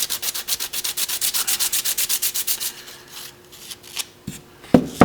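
A sanding block scrubs back and forth over a small protruding area of a tricopter part in quick rhythmic strokes, about two per second, close up, then stops, followed by a few light handling taps.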